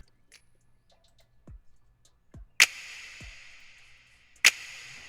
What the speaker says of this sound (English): So first thing that I did was I added a snap,